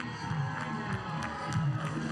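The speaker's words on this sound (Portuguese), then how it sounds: "Torcida brasileira agitada nas arquibancadas" A Brazilian crowd in the stands at a Pan American Games women's beach volleyball match makes a faint, distant wash of cheering and chatter, with brief swells and no clear voice standing out.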